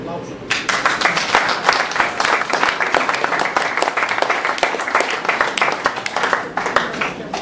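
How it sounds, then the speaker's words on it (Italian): An audience at a theatrical performance breaks into loud, continuous clapping that starts suddenly and holds steady throughout, close and full. "Applausi."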